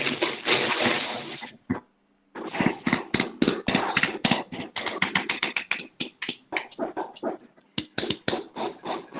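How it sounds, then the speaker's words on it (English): A small conference audience claps in irregular bursts, pausing briefly before the applause picks up again and fades into scattered claps. "Can we have a huge round of applause,"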